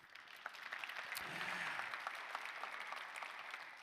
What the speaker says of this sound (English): Round of applause for Sharad.